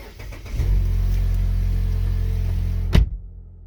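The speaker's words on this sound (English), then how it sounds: "I'm going to press the brake now and start." A Mazda CX-5 engine cranks and catches after a battery replacement, settling into a loud, steady low idle close by, then cutting off sharply near the end after a brief thump.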